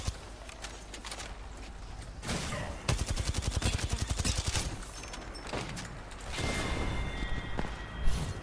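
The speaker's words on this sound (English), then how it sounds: "Shooting me, there is no point of shooting." Rapid gunfire bursts from a shooter video game in a Gun Run match, with a dense volley in the middle and more scattered shots before and after, loud and close over game noise.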